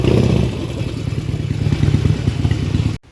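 A Harley-Davidson motorcycle with a modified aftermarket exhaust rumbles while riding, a loud, close, throbbing low engine pulse with clattering texture that cuts off abruptly near the end.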